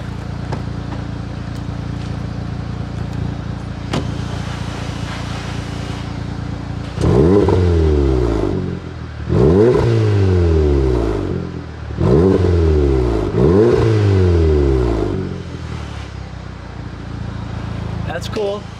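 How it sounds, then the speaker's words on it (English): An APR Stage 2 tuned Volkswagen Golf R engine revved several times while parked, four strong throttle blips with a deep exhaust growl rising and falling, after a stretch of steady idle; people talk quietly before the revs. "Can you give me a couple revs?"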